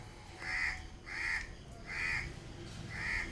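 Crows caw four times in a slow, evenly spaced series, moderately distant over a steady outdoor background hum.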